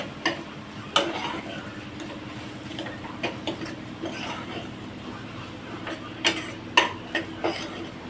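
A spoon stirs a tablespoon of red chili masala in a pan for a cauliflower, pea and paneer dry bhaji, giving sparse metallic clinks and taps over a steady low kitchen hum.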